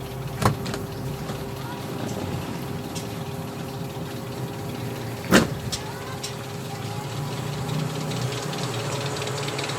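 An old Toyota Twincam SE Limited engine runs at idle as a steady rough mechanical rumble. A couple of sharp knocks cut through it and faint voices are heard in the background.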